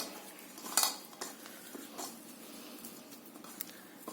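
Ginger-garlic avakaya pickle pieces are stirred with oil in a bowl, giving soft wet scraping and light clinks of a spoon against the vessel, close and quiet, with no talking.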